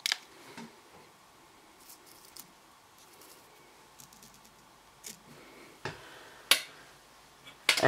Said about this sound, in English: Now you just trim them up.